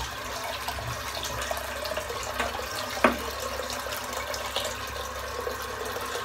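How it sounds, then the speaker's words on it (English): Cold tap water runs steadily into a bathroom sink as it fills, a continuous close rush with a single sharper clunk partway through. "While I'm waiting on the sink filling up"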